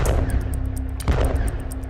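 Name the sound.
artillery fire in war footage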